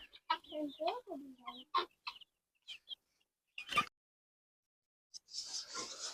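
Several guinea fowl squawk and cluck in short bursts nearby, with pauses of quiet between calls and a harsher rattling call at the end.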